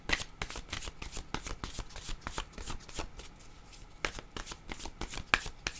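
Oracle cards shuffle close up, with rapid rhythmic riffles and soft flicks that run continuously at low level, plus a few sharp taps near the end.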